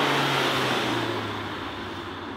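A 2016 Volkswagen Scirocco GTS setting off from a parking lot, its engine and road noise a steady broad roar heard from inside the car that eases slightly over a couple of seconds.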